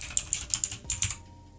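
Quick keystrokes clatter on a computer keyboard, around a dozen sharp close taps in an uneven burst before falling quiet.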